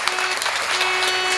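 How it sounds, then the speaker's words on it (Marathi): An audience at a Marathi kirtan bursts into loud, continuous applause, a thick even patter of many hands with a faint steady hum underneath. "टाळी वाजवा ना एकदा जोरदार."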